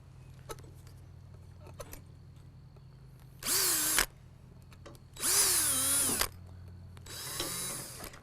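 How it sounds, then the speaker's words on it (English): A power drill set on fast bores through wood in three short high-pitched whirring bursts of about a second each, close and loud against a quiet workshop hum, with faint clicks in between. "I'm going to set the drill on fast."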